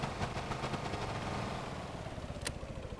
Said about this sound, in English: Don't know what's happened to my engine.